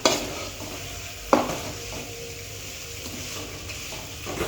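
Bitter gourd curry being stirred in a pan after chili powder goes in, a steady low sizzle of frying with a few sharp scraping knocks of the spoon against the pot, close and alone.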